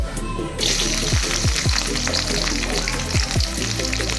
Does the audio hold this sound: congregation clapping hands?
no